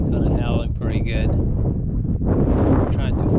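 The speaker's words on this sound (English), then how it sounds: "Sorry about the wind." Strong wind buffets the microphone in a continuous roar and rumble, with a brief lull midway before gusting back up.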